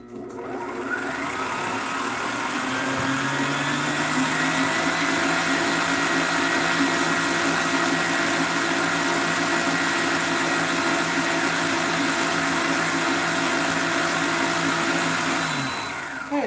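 An electric mixer whipping a sweet potato souffle mixture, a steady loud motor whine that runs unbroken for about fifteen seconds and then winds down and stops.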